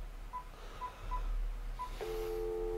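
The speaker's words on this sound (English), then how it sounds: "We're going to go to the phone and get Fee Radio in here" Telephone keypad dialing: several short, evenly spaced touch-tone beeps, then a steady dual-tone ringback or line tone takes over, moderately loud and close with no talk.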